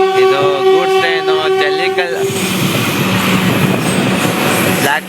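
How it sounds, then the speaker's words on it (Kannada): A goods train rolls past at a station, a loud close rumble with rhythmic wheel clatter that follows a sustained horn blast, with people's voices mixed in. "ಇದು ಗೂಡ್ಸ್ ಟ್ರೈನು."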